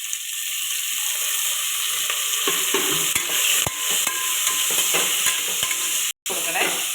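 Onion, green chilli and tomato sauté in a pan under a continuous bright sizzle, while a spoon repeatedly scrapes and knocks as the mix is stirred, close and fairly loud.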